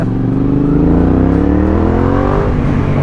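A Yamaha XSR 700 motorcycle engine revs loud and close, its tone rising and then settling in one continuous pull with no voices over it.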